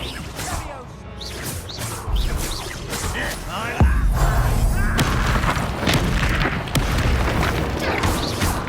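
Booming fiery blasts from a Confringo explosion spell in Hogwarts Legacy, loud and dense, layered with whooshes and crashes of combat as a voice speaks over the fighting.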